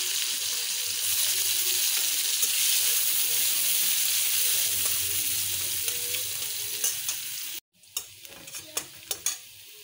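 Chopped onions hit hot oil in a pan and are stirred, a loud, dense sizzle that cuts off abruptly near the end, followed by several sharp spatula scrapes and clinks against the pan.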